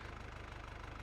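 Steady idling tractor engine in a farming simulator game, a continuous low throbbing drone with regular pulses, fairly quiet and alone with no talk.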